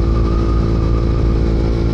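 A motorcycle riding at speed, its engine giving a loud, steady, close droning roar with a constant pitch throughout.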